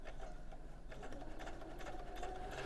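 A domestic sewing machine stitches down a seam on the Ilford jacket, running steadily with a close, fast, even whirring rattle at moderate volume and no voices.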